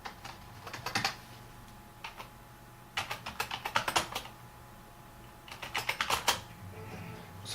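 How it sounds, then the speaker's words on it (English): A password is keyed in on a computer keyboard of a PC running Windows XP, with crisp keystrokes in quick bursts separated by short pauses. "Looks like I have to type in that password to turn it back on."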